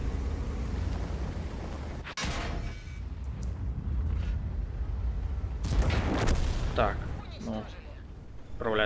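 Several sharp gunshot bursts ring out, one loud crack early, then a cluster of shots later, over a steady rumbling game backdrop with some talk.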